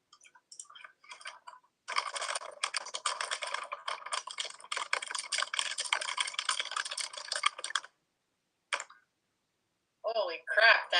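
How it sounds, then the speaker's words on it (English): Vigorous, rapid typing on a computer keyboard, a dense run of close clicking keystrokes lasting several seconds, then a short burst and more clatter after a pause. "That was me typing vigorously."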